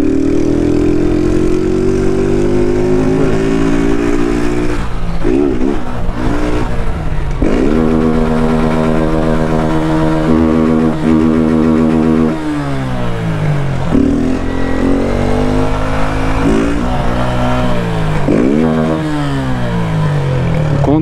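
Several motorcycles rev hard during wheelie runs at a street race gathering in Capão Redondo, engines climbing and dropping in pitch over and over, loud and close, with no talking.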